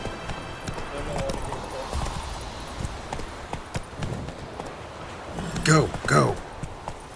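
Hooves of Roach, the horse in The Witcher 3, clip-clop in a steady running rhythm while someone talks over them.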